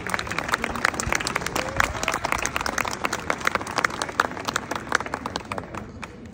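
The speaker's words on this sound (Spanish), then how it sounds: "vamos a dar un aplauso al grupo de baile, al Dance Corps, para que salgan" An audience claps for a Scottish Highland dance troupe at a museum performance, a lively stream of many sharp, distinct hand claps at a brisk rhythm, close and sustained with faint crowd murmur beneath.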